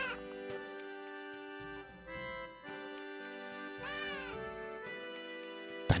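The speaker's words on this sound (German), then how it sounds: "Katze einstecken." A cat in a video game meows several times, drawn-out tonal calls over steady game music, clear and close with no talk.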